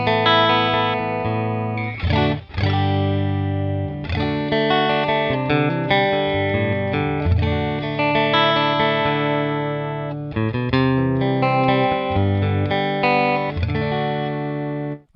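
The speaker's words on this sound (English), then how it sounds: "This is just the guitar sound." Distorted electric guitar through a Headrush Prime amp modeler plays chords and riffs steadily for the whole stretch, full and amp-like, dry with no room echo, and no voices.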